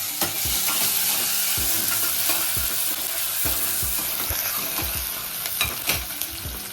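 Onion with ginger-garlic paste frying in a pan for mutton sambar, a loud continuous sizzle with repeated scraping strokes of a spoon stirring the mixture, close up and with no talking.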